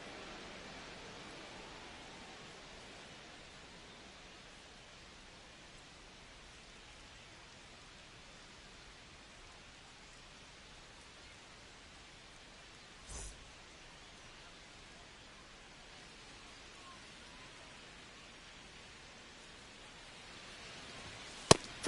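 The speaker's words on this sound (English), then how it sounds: "This rain is not letting up." Rain falling in the baseball video game MLB The Show 25: a steady, faint hiss of rain continuing throughout, with one brief thump midway and a couple of short clicks near the end.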